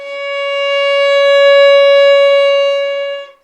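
A single sustained violin note played with the second finger down, bowed smoothly for about three seconds with a gentle swell and then a quick fade, clear and close with no talking.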